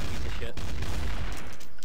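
Grenades blow up in Counter-Strike Source, a dense, loud, continuous crackle of blasts and gunfire packed into under two seconds, with a voice faintly underneath.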